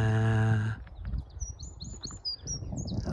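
Chiffchaffs, whitethroats and willow warblers sing and chirp with high, varied phrases over steady outdoor background noise on a spring morning on Ventnor Downs in April, following a brief low tonal hum at the start.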